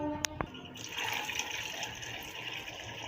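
Water poured into a pot of cut vegetables, a couple of sharp knocks followed by a steady, moderately quiet gushing splash that runs on without pause.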